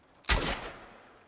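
A single loud gunshot in The Last of Us Part I, a sharp crack with a short booming tail that fades within a second, heard alone.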